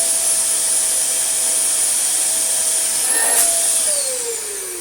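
Dyson DC24 or DC33 upright vacuum cleaner running steadily and loud, with a high motor whine that holds through the clip, a brief surge in the middle, and then the pitch dropping as it begins to wind down.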